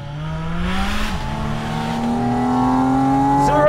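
A Porsche 718 Spyder RS engine revs upward in a loud, continuous climb, the pitch rising steadily with a brief gear-change dip partway through before pulling higher again toward the end.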